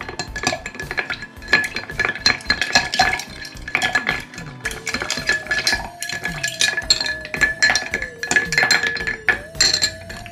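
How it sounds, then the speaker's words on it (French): A cocktail made with Tagada candies is stirred in a mixing glass, the spoon clinking against glass and ice in quick, rhythmic strokes, bright and close for about ten seconds without talk. "Et vous venez mélanger tout ça pendant une vingtaine de secondes dans votre verre à mélange."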